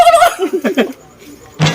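A human voice imitates a turkey's gobble, a brief warbling call, followed by a short burst of noise.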